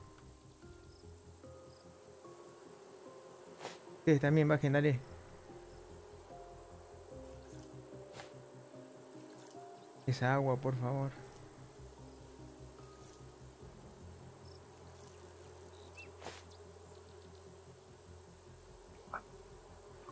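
Bees buzzing in the survival game Raft come as two short, rising drones a few seconds apart over a steady hum of insects and water, while someone speaks quietly.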